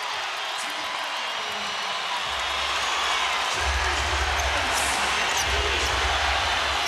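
A playoff crowd at Denver's Pepsi Center roars after a Nuggets basket against the Lakers, a broad wash of cheering that swells and grows louder across the moment, with a low rumble underneath.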